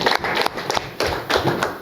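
A group claps during a journalists' visit to Kirehe District, Rwanda, giving rhythmic, close, sharp hand claps in bursts without voices.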